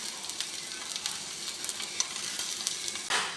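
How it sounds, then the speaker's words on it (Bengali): Fish roasting on a hot tawa griddle gives a steady close sizzle and crackle throughout, with small pops and a brief louder burst near the end; no talking. "মাছগুলো আমি একটু তাওয়াতে সেঁকে নেব"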